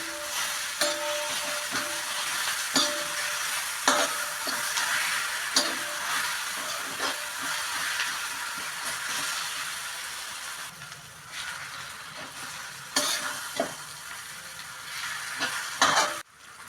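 A spoon works through mashed fried eggplant mixed with other ingredients in a pan while it sizzles, giving scraping stirs and occasional taps against the metal over a steady frying hiss, with no talking.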